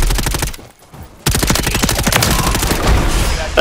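Rapid gunfire from a shotgun in Call of Duty, loud close bursts of repeated shots broken by a brief pause, then a sustained barrage.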